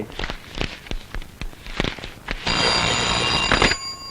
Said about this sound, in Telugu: సుబ్బారావు చుండు నుంచి ఫోన్ చేస్తున్నాడు